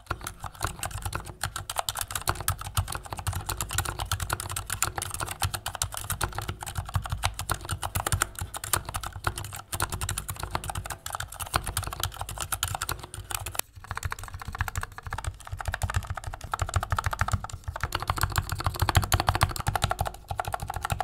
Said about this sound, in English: You may have noticed in that sound test that for an aluminum board, case ping is virtually non-existent here.